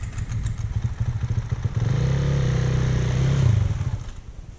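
A motorcycle engine in first gear revs up, holds a loud, rising drone for a couple of seconds, then drops back to a chattering idle, close by with no talk.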